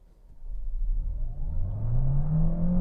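2021 Hyundai Sonata Hybrid pulling away from a stoplight, a low engine hum and whir rising steadily in pitch and loudness as the car gathers speed, heard from inside the cabin.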